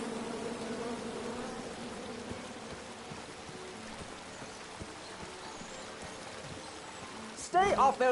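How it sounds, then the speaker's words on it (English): Angry bees buzz from a tree in the King's Quest video game, a steady faint insect drone under a hissy background, with a louder burst of sound near the end. "And then you chop down the tree full of angry bees?"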